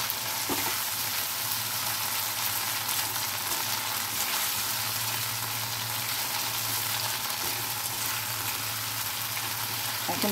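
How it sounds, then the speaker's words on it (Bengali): Ground cumin, ginger and fennel paste fries in a pan while being stirred constantly, giving a loud, steady sizzle and crackle with occasional scraping of the utensil. "এই মশলাটাকে দিয়ে অনবরত নাড়তে হবে, খুব ভালো করে মশলাটা কষাতে হবে।"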